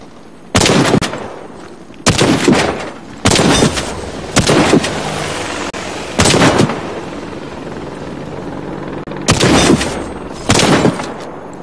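Loud, close shotgun blasts from a medic's weapon in the shooter game Warface, fired in irregular bursts of single booming shots with short gaps and lingering reverberant tails between them.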